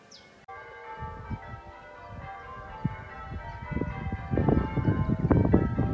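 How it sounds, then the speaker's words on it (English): Church bells ring steadily with a sustained, layered resonance, growing louder and denser toward the end, heard outdoors during a Oldham Ramblers footpath clearance day with light wind and background rustle. "The bells are ringing."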